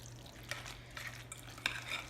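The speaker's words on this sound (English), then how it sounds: "Go ahead and stir it up." Macaroni salad being stirred in a bowl, a soft, wet, squelching churn with a few faint clicks of the utensil against the side, quiet and close, with no voices.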